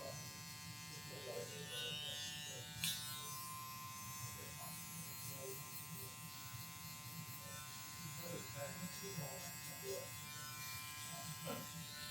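Electric hair clippers run continuously while a barber cuts a fade, a steady high motor whine with strokes of the blade through hair, and someone speaks over the buzzing.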